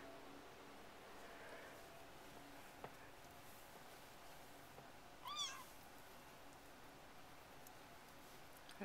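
Faint, distant meows from a RagaMuffin kitten, a short rising call standing out around the middle against a quiet room hiss with light rustling.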